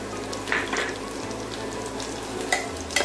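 Green chillies fry in a pan with a constant close sizzle, broken by a few soft scraping stirs and light utensil taps. A low hum sits underneath.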